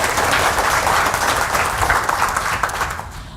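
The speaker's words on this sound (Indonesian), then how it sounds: "Tepuk tangan buat kita semua dong" Audience applauding at a health seminar, a loud, full burst of clapping from a seated crowd that holds steady and then begins to fade near the end.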